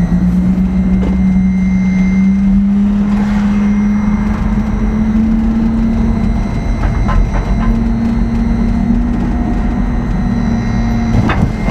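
A Chevy Express van converted to electric drive accelerates, its motor whine rising slowly in pitch over a constant loud road rumble from inside the cabin, with no talk.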